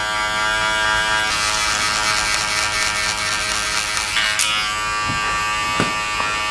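Electric hair clippers fitted with a one guard buzz steadily and close up while tapering a long, overgrown haircut, the motor hum continuous with small shifts as the blade works through the hair, no talking.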